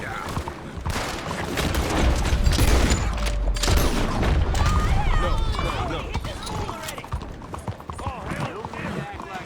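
Gunfire and chaotic fighting from the video game Red Dead Redemption 2, with rapid bursts of shots and clattering over hoofbeats and shouted voices, loud and dense throughout.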